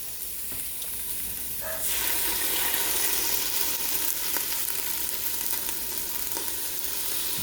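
Tomatoes go into a hot pot of Manhattan clam chowder with potatoes and zucchini, and a loud continuous sizzle swells up and holds steady, close and with no talking over it.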